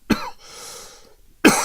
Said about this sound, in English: Excuse me, I'm going to have to cough.